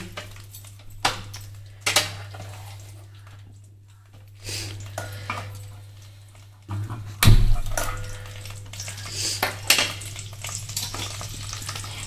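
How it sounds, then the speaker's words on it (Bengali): Chopped vegetables with broad beans and green peas fry in a pan for vegetable khichuri. Intermittent sizzling bursts and stirring clatter sit over a low steady hum, with louder scraping toward the end. "তো এখন এটা ভাজা হতে থাক"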